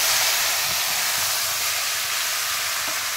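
Raw marinated fish, just added to hot oil with whole cumin and spices, sizzles in a loud, continuous hiss that stays steady from start to finish with no talking.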